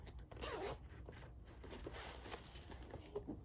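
A zipper on a fabric project bag for cross-stitch floss is pulled close by in a few quick rasping strokes, with faint rustling and no talking.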